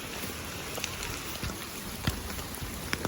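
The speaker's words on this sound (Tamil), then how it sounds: "மழை வர நல்லா பெய்யுது" Heavy rain pours steadily in a mountain valley, a dense continuous hiss with occasional louder drops spattering on a surface, fairly loud and unbroken.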